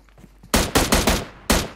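Gunfire from tap shooting in a PUBG Mobile match at an esports league final: five sharp, loud shots, four in quick succession, then a short pause before a final crack.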